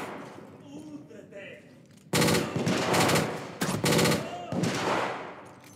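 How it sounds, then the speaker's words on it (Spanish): Machine gun fire in the PS5 game The Order: 1886, loud sustained bursts of rapid automatic shots with brief pauses between volleys, following a quieter stretch. "Esa ametralladora"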